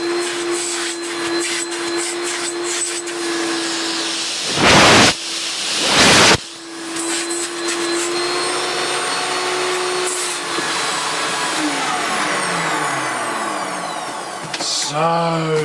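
A refurbished Hoover Turbopower 3 U2876 upright vacuum cleaner runs with a loud, steady whining hiss, cut by two brief bursts of louder rushing air as suction is tested, then a rising whine near the end.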